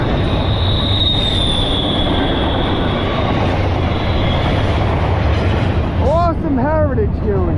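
A short freight train led by an EMD SD70ACe diesel locomotive rumbles past up close at about 48 mph, its wheels grinding steadily, with sharp metallic squeals rising near the end.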